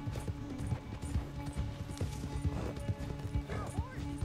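Horse hooves clip-clopping at a steady galloping rhythm in Red Dead Redemption 2, a dense run of close hoofbeats over game ambience with a brief whinny and speech over it.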